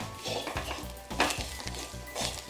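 Grated coconut being roasted and stirred in a pan for chammanthi podi gives a steady dry sizzle, with repeated scraping strokes of a spoon against the pan at a regular rhythm, close and fairly quiet.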